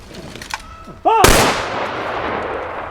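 A single loud volley of an honorary gun salute cracks out at a memorial ceremony, with a sharp bang and a long echoing decay, just after a brief shouted command.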